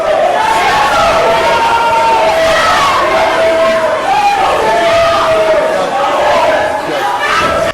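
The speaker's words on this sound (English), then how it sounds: "a collective outcry rises from the gallery, and her supporters begin to shout in protest" A courtroom gallery crowd erupting in outcry as supporters of a former judge shout in protest, a loud sustained wall of overlapping yelling and raised voices throughout, with no break or single voice standing out.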